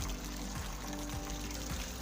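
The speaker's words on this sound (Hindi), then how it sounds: "ये पानी डायरेक्ट चश्मे से आ रहा है" Spring water pours straight from a natural spring at Malam Jabba in Swat, a steady close splashing flow that runs unbroken with no voices.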